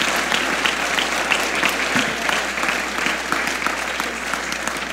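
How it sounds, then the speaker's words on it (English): A church congregation at a Sunday service gives a warm round of applause, a continuous wash of many hands clapping at moderate volume, steady for about five seconds without talk. "Can you give these guys a round of applause and just thank them for stepping out in faith?"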